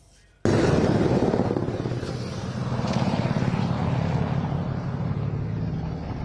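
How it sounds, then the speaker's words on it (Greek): An NH90 military helicopter flies past, escorted by Apache helicopters, during a special operations exercise at Megara airfield, heard as a sudden loud, steady rotor and engine roar that stays strong and gradually eases slightly. "ελικόπτερο NH90 καλυπτόμενο από Απάτσι μεταφέρει στελέχη ειδικών επιχειρήσεων"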